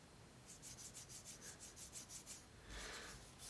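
A wet leather edge rubbed back and forth through the grooves of a slicker, a steady series of about a dozen close, soft rasping strokes with a brighter scrub at the end, no talking.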